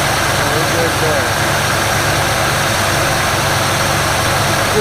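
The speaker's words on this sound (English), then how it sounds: "We've still got a little rough idle at the moment." A 1948 Willys Jeep engine idles roughly, giving a steady, close, continuous rumble with an uneven throb that runs the whole time.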